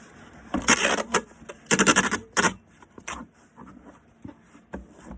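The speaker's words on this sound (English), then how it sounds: "So we're just gonna tape this closed." Packing tape is pulled and pressed across a cardboard shipping box: several loud, rasping rips in quick bursts, then softer rubbing and tapping as the tape is smoothed down.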